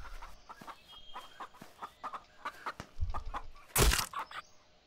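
Chicken clucking in a survival video game, a run of repeated short clucks at a steady uneven rhythm, close and fairly quiet, with a louder burst of squawking flutter near the end.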